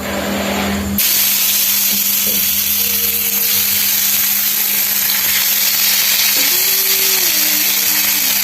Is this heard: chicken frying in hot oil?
yes